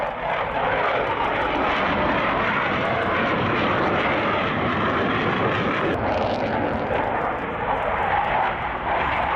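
Aircraft taking off at an airfield, a loud, steady engine roar filling the whole stretch with little change, close and continuous.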